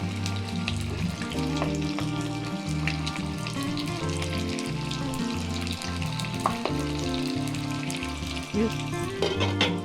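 Siomai frying in a pan at night gives a loud, steady sizzle and crackle that runs unbroken throughout, with no talking.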